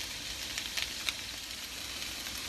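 Tofu fries in a pan with a soft, steady sizzle and hiss, faint and continuous, dotted with a few small pops.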